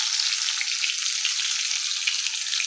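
Cumin seeds sizzle in hot oil in a pan, a bright, even, close hiss with faint crackles that holds steady with no voices.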